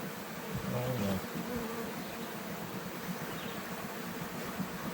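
A captured honey bee swarm buzzes steadily, a dense continuous drone of many bees close by, with a faint voice briefly underneath near the start.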